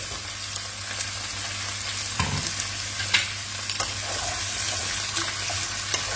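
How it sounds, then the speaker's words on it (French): Sliced carrots and butternut squash sautéing in a pan, giving a constant close sizzle with occasional clicks and scrapes of stirring and a brief clatter partway through; no voices. "je mets les carottes et le buttermouth, je le fais revenir pendant 5-10 minutes"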